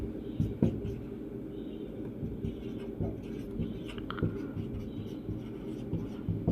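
Hand writing figures during an accounting lesson, soft scratchy pen or chalk strokes in an irregular rhythm, faint under a quiet room hum with occasional low voice sounds.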